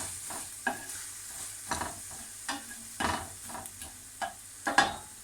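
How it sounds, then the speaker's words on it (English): A single onion stirred in a saucepan for a cannelloni sauce: soft repeated scrapes and brief stirring bursts over a quiet sizzle, close by, with no talking. "Throw one onion into the saucepan."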